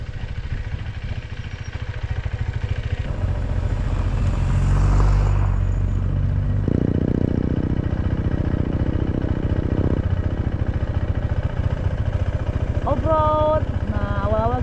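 A KTM 390 Adventure motorcycle is ridden off-road on gravel between Sukabumi and Pelabuhan Ratu. Its engine drones steadily and close throughout, with rumbling and wind noise and a rise in revs partway through.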